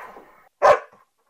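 A single loud, close dog bark rings out alone, briefly preceded by a faint murmur.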